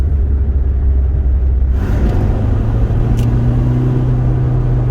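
A Rover 25 car engine accelerates with a deep, steady rumble that rises in pitch as it pulls, heard close from inside the car with no talking.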